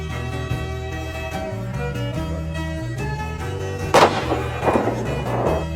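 A gunshot rings out in a western film scene set in the 19th-century American West, landing as a sharp, loud blast partway through with a short rumbling tail, over sustained background music.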